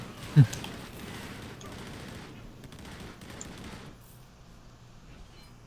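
Turret gunfire in Warhammer: Chaosbane, a sharp loud shot at the start followed by a faint, dense rattle of distant fire that tapers off after a few seconds.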